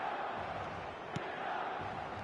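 A broad, steady roar from a stadium crowd in an eFootball match, with no lulls and a faint dull thud partway through.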